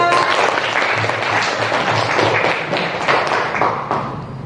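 Students applaud in a classroom, a dense burst of clapping that stays loud and close, then thins slightly toward the end.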